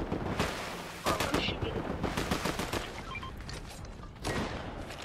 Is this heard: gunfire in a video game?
yes